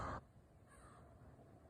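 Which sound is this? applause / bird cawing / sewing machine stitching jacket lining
bird cawing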